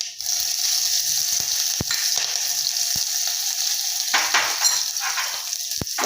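Cumin seeds and chilli pieces sizzle in a spoonful of hot oil in a heated pot for a fasting-day kadhi. The frying hiss is loud and steady, broken by a few sharp clicks and clinks of a spoon.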